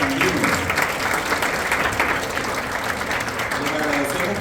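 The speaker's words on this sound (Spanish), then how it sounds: "Nuevamente el aplauso para las jovencitas de Puerto Sandino." A conference audience applauds a group of young women from Puerto Sandino with steady, full clapping throughout, and faint voices are heard beneath the clapping.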